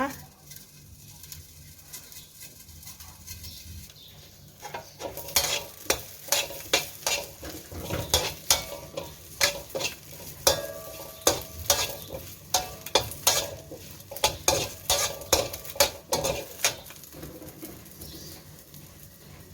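Shallots and garlic dry-roast in a pan for a Thai Isan eggplant dish, with rhythmic scraping stirs and light sizzling that grow busier after a quiet start.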